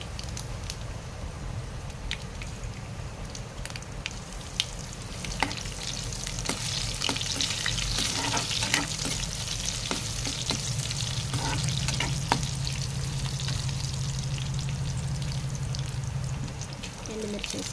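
Garlic sizzles steadily in hot oil in a pan while mango ulava charu is cooked, with occasional stirring scrapes and clinks over a constant loud frying hiss.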